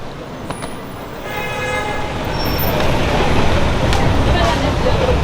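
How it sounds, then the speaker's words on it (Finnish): Dense Paris rush-hour traffic jam with cars and buses idling and rolling, short horn toots sounding several times over a steady close roadway roar that builds slightly; no speech over it. "Nyt ollaan niinku miljoonakaupungissa. Hyvä ruuhka."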